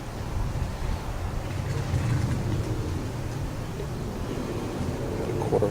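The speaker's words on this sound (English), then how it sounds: "The wind is blowing." Steady outdoor wind buffets and rumbles without a break beside an ugly drum smoker while pulled pork is prepared.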